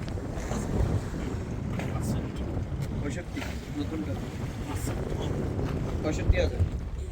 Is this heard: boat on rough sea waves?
yes